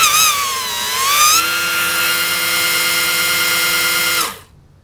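Power steering pumps used as a hydrostatic drive whine loudly and steadily, their pitch sliding down then holding before the sound cuts off sharply near the end, close by with no speech.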